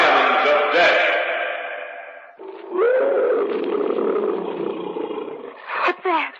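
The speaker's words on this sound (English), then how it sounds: "Probably a tiger somewhere in the jungle." A tiger roars loudly in a jungle setting, one long echoing roar followed by a second rising growl and a few short snarls near the end, with no talk.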